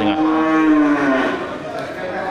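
A Brahman cross cow at a busy livestock market in Geurugok lets out one long, loud, close moo that fades out, with crowd noise behind it.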